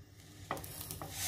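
Mustard seeds hit hot coconut oil in a frying pan for a Kerala koorkka stir-fry, sending up a steady close sizzle with two sharp popping crackles.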